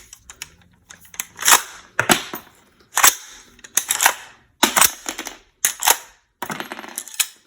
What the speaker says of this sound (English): But I find this gun very fun to shoot,